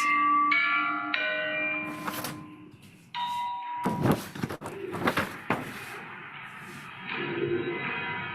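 Ringing bells, tuned chimes and struck tones from Limerick, layered with swelling electronic textures and processed noise bursts, shifting and overlapping in an abstract electroacoustic sound collage.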